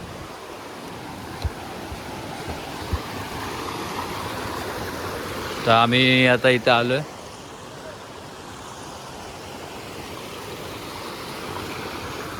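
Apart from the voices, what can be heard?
water flowing in a stream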